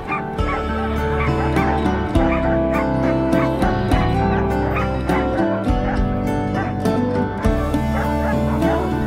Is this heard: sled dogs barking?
yes